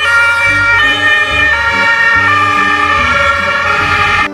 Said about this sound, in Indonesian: Wadidaw, mobil ambulan.